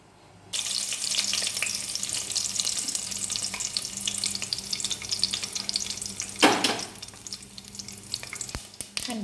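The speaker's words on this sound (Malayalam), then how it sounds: "അണ്ടിപ്പരിപ്പ് വറുത്ത് കോരി വെച്ചേ" Cashew nuts frying in coconut oil for upma give a steady, close sizzle that starts after half a second and runs throughout, with a brief clattering stir near the end.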